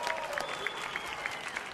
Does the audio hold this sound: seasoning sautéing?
no